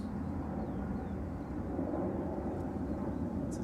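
A Ryanair Boeing 737-800 operated by Malta Air, arriving at Manchester Airport from Copenhagen, gives off a continuous low, distant rumbling roar that holds steady throughout.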